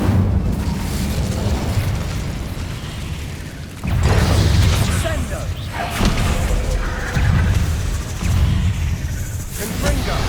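Incendio fire spells are cast in Hogwarts Legacy, in the Feldcroft catacombs, and land as repeated loud fiery bursts and booming thumps a few seconds apart over rumbling game ambience, with voices in the mix.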